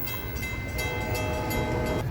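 A Florida East Coast Railway freight train rolls past at an interchange, a steady loud rumble of wagons with faint tonal horn traces, continuous and close throughout.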